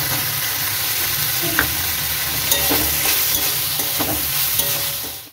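Chopped garlic and onion fry in hot oil for chili garlic cauliflower, a steady close sizzle broken by a few clinks and stirring scrapes.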